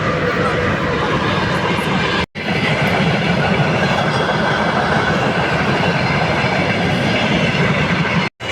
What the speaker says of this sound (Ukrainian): а там іде поїзд